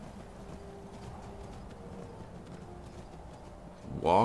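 Horse hooves clip-clop steadily in Skyrim, a faint, even patter over a low ambient wash of the game's outdoor setting, with a louder burst of sound breaking in at the very end.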